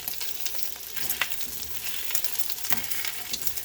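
Breakfast sausage sizzles and crackles in a frying pan, a soft steady hiss with scattered pops, no voices.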